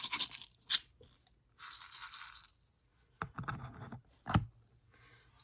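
Small plastic beads rattle and swish in a spinning bead spinner, in several bursts of shaking separated by short pauses, fairly close and moderately quiet.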